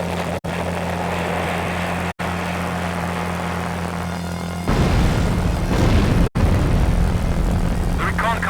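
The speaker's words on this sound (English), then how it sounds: "The recon cars have caused an explosion at the airfield. One of the hangars is ablaze." Explosion at a British airfield in a video game, a hangar going up in flames, heard as a sudden loud roaring blast midway that rises over a constant aircraft engine drone and continues as heavy rumbling.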